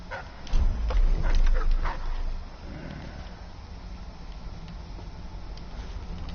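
A hound barks in Dishonored, a few close yips and barks in the first couple of seconds, then only low ambient game noise remains.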